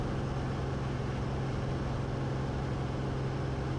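A Cessna 180 Skywagon with a big 520 engine and a three-bladed propeller drones as a steady, loud, unbroken roar with a constant low tone, no voices over it.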